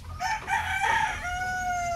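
A gamefowl rooster crows once in a breeding pen, a loud, close call of about two seconds that rises and then trails off in a long held note.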